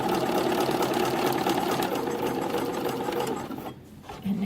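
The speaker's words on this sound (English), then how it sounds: "I have engaged my even feed foot just because it makes life easier." A sewing machine runs steadily with its even feed foot engaged, stitching along a folded edge in a fast, continuous whirring hum that cuts out near the end, followed by a brief low thump.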